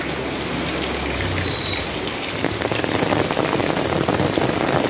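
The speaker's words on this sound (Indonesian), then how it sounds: "Ternyata hujannya gede juga." Heavy rain pours steadily onto a surface outdoors, a dense, continuous hiss of drops that swells slightly louder partway through, with no voices.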